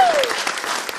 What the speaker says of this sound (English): Another round of applause for Dave Marley